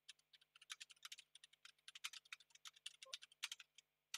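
Rapid, uneven clatter of keys on a computer keyboard, typed steadily and close up in a quiet room with a faint electrical hum underneath, and no one speaking.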